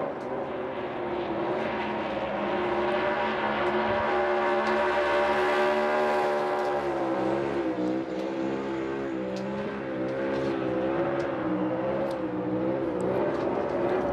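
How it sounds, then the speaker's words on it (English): A NASCAR race car doing a burnout at Richmond Raceway, a loud sustained engine howl with a rising then wavering pitch, heard from a distance with crowd ambience beneath. "Good burnout late here."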